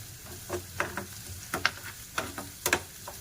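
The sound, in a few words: curry leaves sizzling as they are added to hot oil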